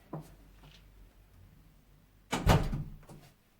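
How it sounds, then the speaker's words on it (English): A door closes with a single solid thump and brief rattle near the end, preceded by a quiet room and a faint click at the start. "close the door"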